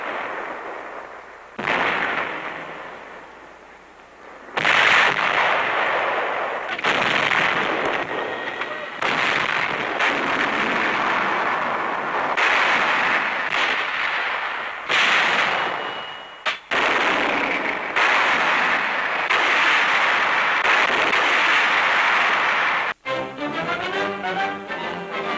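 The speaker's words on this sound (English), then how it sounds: "Powerful 105 and 155 millimeter howitzers blasting the Japs from their last" 105 and 155 millimeter howitzers fire on Guadalcanal in 1943, a long run of heavy, rumbling booms following one another closely, with a voice narrating over much of the barrage.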